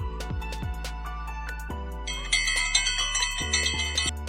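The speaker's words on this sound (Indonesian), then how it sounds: "bel istirahat berbunyi." A school break bell rings as an electronic chime, a melodic sequence of bright bell-like tones that steps up in pitch and repeats, loud and clear with no talking.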